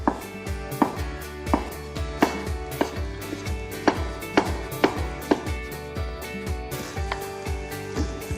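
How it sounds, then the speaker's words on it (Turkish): Soaked figs being cut into small pieces with a knife on a cutting board, a steady series of sharp, close knife taps at an even rhythm, with no talking. "İncirlerimi tahtaya çıkartıyorum. Küçük parçalar halinde keseceğim."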